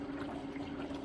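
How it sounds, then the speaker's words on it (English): An AquaTru countertop reverse osmosis filter pushes water through its system, producing a steady low pump hum under a continuous trickling, flowing sound, close and even throughout. "And you can see right here, the water is being pushed through right here."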